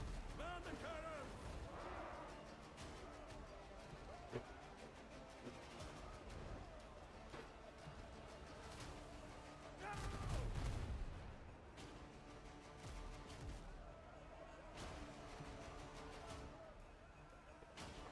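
A single deep cannon boom from the naval video game Windrose bursts out midway through dense, continuous game sound, with lighter mechanical clatter around it.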